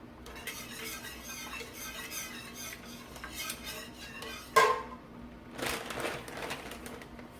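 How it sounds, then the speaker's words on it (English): Cheese is stirred into soup a quarter cup at a time, a spoon scraping and clinking in the pot with irregular strokes, one sharper clank midway and a few faint background sounds. "It's 1 cup of cheese, and it just has to add like a 1/4 cup at a time and stir."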